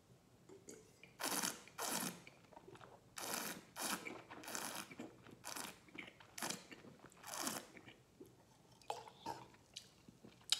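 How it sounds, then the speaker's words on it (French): A wine taster draws air through a mouthful of Chénas Les Brureaux 2020 red wine and chews it, making repeated close slurping, gurgling and sucking bursts in an uneven rhythm, with no talking. "mâcher le vin comme si on avait un aliment en bouche, à le grumer comme ça, à inspirer de l'oxygène"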